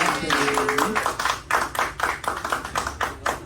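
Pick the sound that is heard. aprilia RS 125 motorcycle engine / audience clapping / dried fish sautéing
audience clapping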